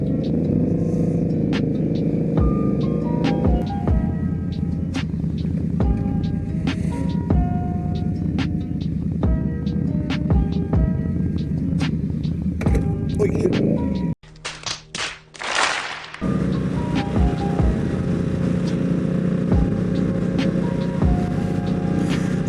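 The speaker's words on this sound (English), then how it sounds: "He's got some Dean Speed exhaust straight pipes without the baffles in there." A motorcycle fitted with Dean Speed straight-pipe exhausts with the baffles removed rumbles loudly and close, throbbing at idle and rising and falling as the rider blips the throttle, with a brief quieter break partway through.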